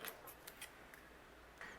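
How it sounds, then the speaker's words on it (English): Scissors trim white cardstock in a quiet room, giving a series of faint, crisp snips spread across a couple of seconds. "And then I'll use my scissors and just trim this side here."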